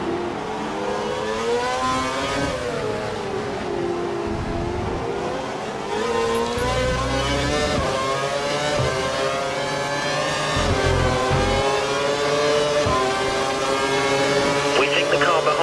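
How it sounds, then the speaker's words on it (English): A Formula 1 car engine at full revs in the F1 2012 racing game, a loud, sustained high-pitched whine with shifting harmonics as revs rise and fall, another car close behind, steady throughout. "We think the car behind is running on full revs."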